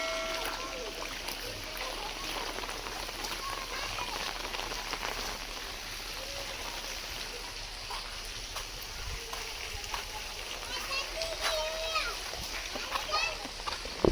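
Heavy afternoon downpour in Chobari village hisses and patters steadily on surfaces, with occasional splashes, while voices carry through the rain.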